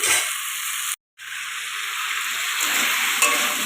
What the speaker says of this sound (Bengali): দু তিন মিনিট মতো আমি ভাজছি